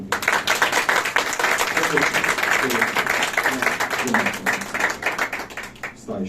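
Audience clapping at a religious gathering, a dense, steady round of hand claps from many people filling several seconds, with voices mixed in beneath.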